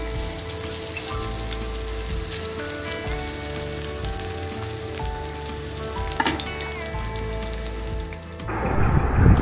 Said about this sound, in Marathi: बघा, बारीक गॅस ठेवला की चांगल्या खरपूस असं भाजून येतं.